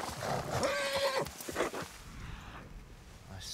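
A horse in the video game Red Dead Redemption 2 lets out a clear, drawn-out neigh with a rough breathy snort around it, followed by quieter shuffling and a faint trailing whinny.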